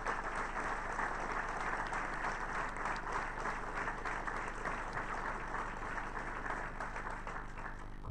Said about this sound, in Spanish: les pido un aplauso en reconocimiento a la contribución que nos han hecho